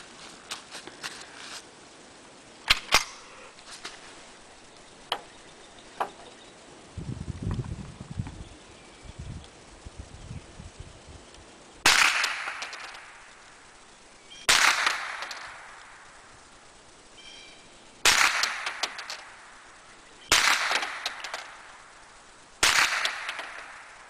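.22 Long Rifle shots fired with Remington 550 bulk pack ammunition, sharp cracks spaced a few seconds apart with short echoing tails outdoors, several loud reports in the second half after quieter handling noises.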